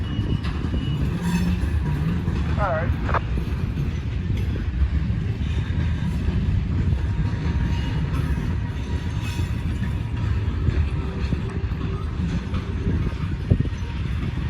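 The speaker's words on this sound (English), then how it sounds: "RJ Corman grain train" An RJ Corman grain train hauled by six locomotives rumbles past steadily, a continuous loud low roar of wheels and engines with brief squeals, filling the whole stretch; a voice speaks briefly.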